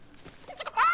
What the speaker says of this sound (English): Hello, chicken. Come here, chicken.